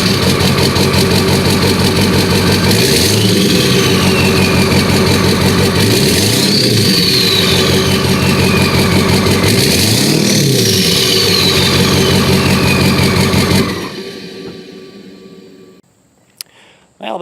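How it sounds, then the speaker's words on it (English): Ford 7.3 diesel F350 truck with a 4-inch Diamond Eye stainless exhaust idles loudly up close at the tailpipe, a steady rumble with a few light revs, then shuts off near the end, leaving a brief quiet tail. "let's fire up the diesel truck while filming the tailpipe"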